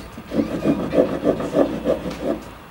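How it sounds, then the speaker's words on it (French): A hand saw is drawn back and forth through metal bars, making seven or eight steady rasping strokes in an even rhythm, close and moderately loud with no talking. "je vais commencer à scier les barreaux"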